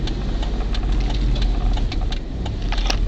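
A 2006 Dodge Dakota pickup with a six-speed manual pulls away in first gear, its engine a low, steady rumble with faint ticking, close and continuous for a few seconds without talk.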